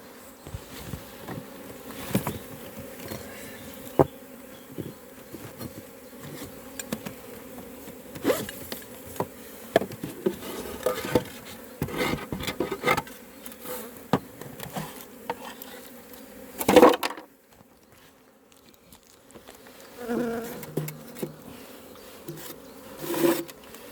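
Honeybees buzz steadily in a dense, close swarm around an open hive while frames holding queen cells are split, with occasional knocks and rustles of handling.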